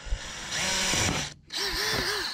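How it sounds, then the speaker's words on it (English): A power drill whines steadily as it bores a hole through a Champion 3400-watt dual fuel generator's cover, pitch shifting under load, with a brief stop before drilling resumes. "I'm just going to drill a hole right here."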